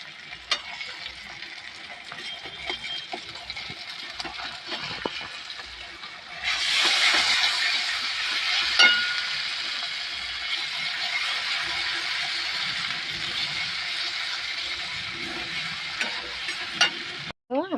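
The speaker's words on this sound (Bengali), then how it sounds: "এবার আমি দিয়ে দেবো আদা রসুন বাটা। দিয়ে ভালো করে এবার নাড়িয়ে নেব।" Ginger garlic paste fries with onion and tomato as it is stirred in a pan. A soft sizzle with scraping strokes turns into a louder, hissing fry partway through and keeps going steadily to the end.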